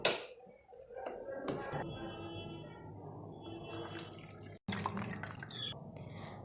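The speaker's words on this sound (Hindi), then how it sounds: "अब हम हमारी सेवइयों पर थोड़ा सा ठंडा पानी डाल देते हैं ताकि ये आपस में जुड़े नहीं" Cold water poured over boiled, drained colored vermicelli in a kitchen, a soft trickling and splashing with drips and small clatters, fairly quiet and close.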